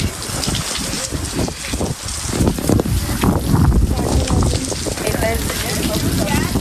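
Heavy monsoon rain pours down steadily on a trek to Tringalwadi fort, a dense loud hiss mixed with gusting wind buffeting the microphone, while a person speaks under the downpour.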